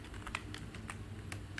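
Quick, faint clicks of a computer keyboard tap out code in an irregular burst of keystrokes, with no talking.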